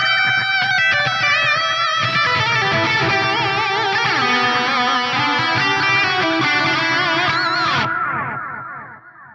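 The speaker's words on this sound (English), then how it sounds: "This is a darker analog style delay. It sounds like this." An electric guitar plays a melodic phrase through a Fractal FM3 dark analog-style delay, warm and murky repeats trailing softly behind each note before fading out at the end.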